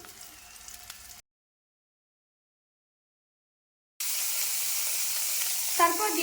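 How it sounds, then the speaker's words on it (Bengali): Peeled boiled eggs fry in hot oil in a pan while making an egg and cauliflower curry. A soft sizzle is followed by a stretch of silence, then a louder, steady hiss of frying with a brief stir near the end. "এখন একটু সময় নিয়ে ডিমগুলোকে বেজে নেব"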